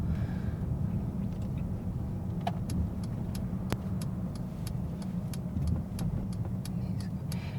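Traffic on a road during a learner's driving test, heard from inside the car as a quiet, steady low rumble with a regular faint ticking over it.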